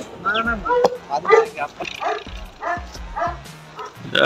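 Dogs at a dog fight in Punjab bark, yip and whimper in quick, close, overlapping bursts, with human voices mixed in.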